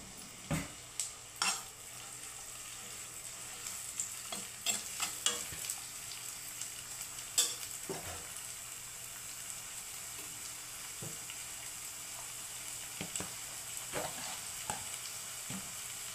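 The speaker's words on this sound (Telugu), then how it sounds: "ఫస్ట్ ఉల్లిపాయ వేసుకుందాం. కొంచెం కరివేపాకు," Sliced onion and curry leaves fry in a pan for a home-style Andhra mushroom curry, giving a soft, steady sizzle broken by sharp, irregular scrapes and clicks of a spoon stirring nearby.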